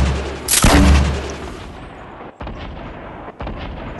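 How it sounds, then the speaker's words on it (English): In Fortnite, an RPG fires with a loud boom followed by blasting explosion noise, then a sustained roar with a couple of brief dropouts, and no clear talk over it. "Just keep shooting your RPG."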